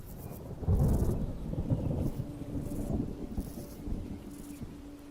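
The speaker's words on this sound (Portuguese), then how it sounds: "a gente pode ouvir um trovão tocando na hora que ele faz isso" Thunder rolls through a film scene as a low, rumbling swell that peaks early and then lingers as a softer growl beneath faint rain-like noise.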